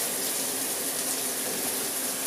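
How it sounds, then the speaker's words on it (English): A shower runs in a steady, even hiss of falling water during a morning routine, close and constant with no other sounds. "Let that shower run."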